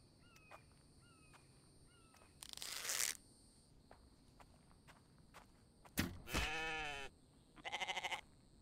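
Goats and sheep bleat in a farming video game, short repeated calls over footstep-like shuffling, with several louder noisy bursts later on; no talk is heard.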